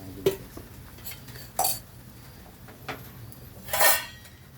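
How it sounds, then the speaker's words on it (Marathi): A metal spoon mixes chutney into vada pav potato filling in a pan, giving several sharp scrapes and clinks against the vessel at irregular intervals, close and without speech. "आता आपण ही चटणी त्याच्यामध्ये मिक्स करायची."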